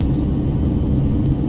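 Boeing 737 engine thrust reversers roar in X-Plane 11 after a landing, a steady deep rumbling drone with no break in it.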